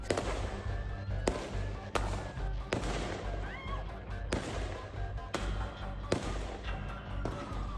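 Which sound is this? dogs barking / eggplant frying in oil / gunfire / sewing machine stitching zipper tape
gunfire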